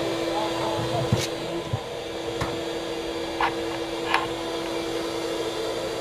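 A bee removal vacuum drones steadily with a constant low hum, broken by a few soft knocks, while muffled voices sit faintly beneath it.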